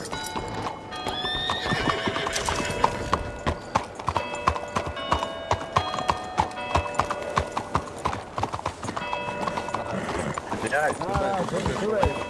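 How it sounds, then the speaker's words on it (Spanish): Horse hooves clip-clop in a steady, continuous patter, close and clear, while a horse neighs and whinnies several times amid ambient background sound. "Puto caballo."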